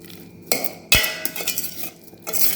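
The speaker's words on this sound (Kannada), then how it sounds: "ಚೆನ್ನಾಗಿ ಮಿಕ್ಸ್ ಮಾಡ್ಕೊಬಿಡಿ." A spoon mixes pineapple chaat in a bowl, giving two sharp metallic clinks early on followed by softer scraping and stirring clatter, close and fairly loud with no talking.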